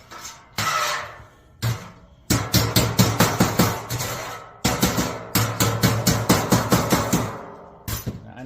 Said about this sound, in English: I kind of like rounded hammers for this for some reason.